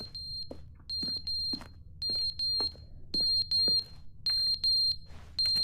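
An alarm keeps beeping in The Stanley Parable video game: loud, high-pitched electronic tones in clustered bursts with brief gaps between them, heard alone apart from faint clicks.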